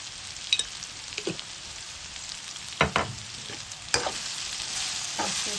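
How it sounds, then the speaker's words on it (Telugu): Eggplant frying in a pan for vankaya fry as turmeric is stirred in: a handful of sharp utensil scrapes and clinks spaced irregularly over a faint background sizzle, close up and without speech. "పసుపు వేసుకొని ఇలా కలుపుకోవాలి."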